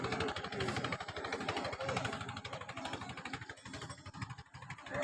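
A boat engine on the Jamuna river runs close by with a rapid, even chugging throb that holds steady throughout, with no voices over it.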